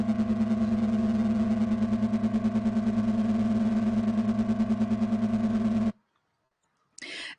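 A synthesizer tone built in Unreal Engine Blueprint with detune and pulse-width settings holds a steady buzzing, pulsing note for about six seconds, then cuts to silence before briefly sounding again.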